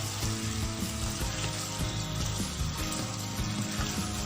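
Chicken Shinwari karahi frying in a pan with chili garlic sauce, giving a steady close sizzle with faint music-like tones underneath.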